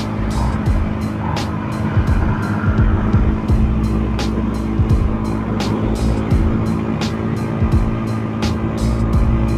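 A Yamaha N-Max scooter on the Agoncillo-Laurel road in Agoncillo, Batangas, with a loud, steady engine drone and rushing wind that stays close throughout, broken by regular sharp ticks.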